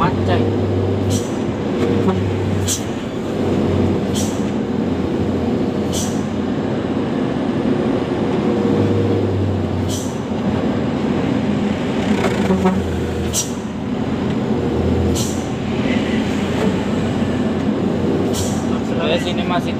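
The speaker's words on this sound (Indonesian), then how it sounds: "makanya kami hanya menggunakan exhaust brake" A heavy truck hauling about 38 tons rolls down a long descent on an exhaust brake, giving a steady low droning rumble with periodic pulsing throbs. Faint speech rides over it now and then.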